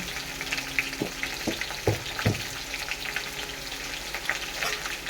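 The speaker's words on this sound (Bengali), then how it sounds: "কাজু আর কিশমিশ দিয়ে দেবো একটু পোস্ত দিয়ে দেবো" Cashews, raisins and poppy seeds fry in a pan with a steady close sizzle. A few soft knocks from stirring land near the start.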